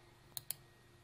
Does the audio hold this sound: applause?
no